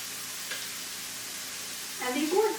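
Minced garlic sizzles while frying in a pan, a steady broadband hiss with a stir that swells louder near the end, no voices over it.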